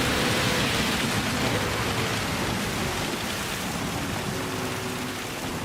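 Rain during a Gran Turismo 7 24 Hours of Le Mans race, a dense, steady hiss of falling water with a low rumble underneath, continuous and loud, with no talking.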